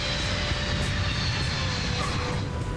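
A Lockheed C-5 Galaxy, a huge military jet transport, comes in to land with a loud, steady broadband engine roar that fills the whole stretch without letting up.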